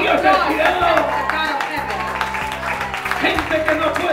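A church congregation breaks into applause, a dense wash of clapping hands with crowd murmur and a preacher's voice talking over it throughout.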